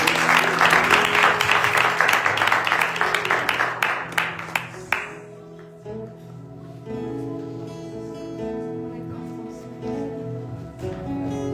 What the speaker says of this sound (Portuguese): Acho que você pode dar uma salva de palmas para Jesus.